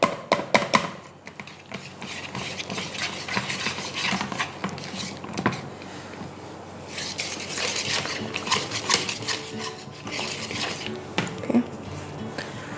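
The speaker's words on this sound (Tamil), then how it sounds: "இது ஜஸ்ட்டு அதை மிக்ஸ் பண்ணுற மாதிரி பார்த்துக்கோங்க" Chocolate cake batter mixed by hand in a bowl, a utensil scraping and clinking steadily against the sides in an irregular stirring rhythm, close and fairly loud, with some background clatter.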